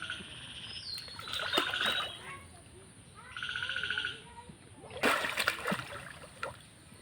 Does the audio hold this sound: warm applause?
no